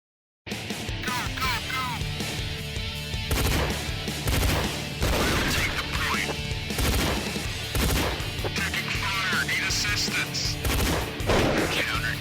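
Dense, continuous gunfire and rapid automatic bursts from an online multiplayer shooter game, loud and constant with overlapping shots and impacts.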